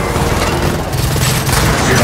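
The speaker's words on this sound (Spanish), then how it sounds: "¡Estos disparos detectados!" Dense, continuous gunfire and booms from the Gears of War 4 campaign pound away loudly and steadily throughout, a thick wall of shooting with no pauses.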